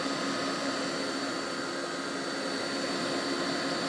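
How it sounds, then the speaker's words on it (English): A kitchen blender running steadily on celery and marinara sauce, a loud, dense whirring roar that holds constant throughout with no pauses or talking. "It's been a while since we used the blender."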